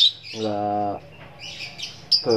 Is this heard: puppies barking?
no